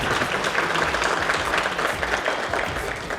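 An audience at a camp's final event breaks into loud, sustained applause, a dense crowd of hands clapping close by without pause.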